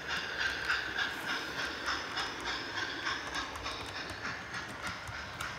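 A model locomotive hauls a rake of coaches along the rails with a steady rolling hiss and faint rhythmic clicks, running continuously at moderate level with no voices.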